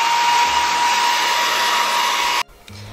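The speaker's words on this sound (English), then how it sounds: "Alright, and then we're just dry with my hair dryer" A handheld hair dryer blowing loudly and steadily at close range, a dense airy roar with a whine, cut off sharply near the end and followed by brief quiet handling sounds.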